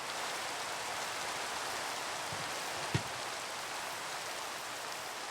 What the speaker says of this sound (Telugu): ఇది వర్షం మాకు అవసరం లేదు.